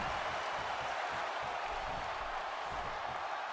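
A fired-up crowd at a WWE 2K16 video game wrestling match, a steady wash of cheering and clapping that stays even and fairly distant, with faint talk underneath.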